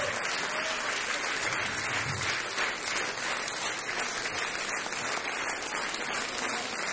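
Dense, continuous applause from a theatre audience giving an ovation at the end of the ballet Spartacus, even and sustained with no talk over it.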